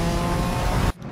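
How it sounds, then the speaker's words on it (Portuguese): A loud, sustained classic Ferrari engine drone with a whistling turbo whine in Need for Speed Most Wanted Redux, ending suddenly in near silence just before the clip finishes. "o barulho aqui de turbo tá bem pronunciado nessa Ferrari."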